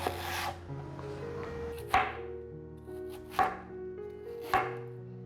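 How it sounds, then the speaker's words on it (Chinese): Chinese yam being cut into strips with a knife on a board, three or four distinct chopping thuds at a slow, uneven pace, close and clear over a faint hum. "现在继续把山药切成条状"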